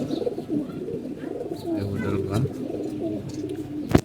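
Homing pigeons coo in low, soft repeated throaty calls nearby, with some voices talking in the background and a sharp knock near the end.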